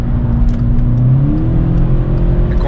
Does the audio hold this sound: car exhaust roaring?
yes